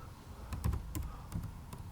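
Fingers type on a computer keyboard, a quick irregular run of close, crisp key clicks and taps with short pauses between bursts, heard alone without talk.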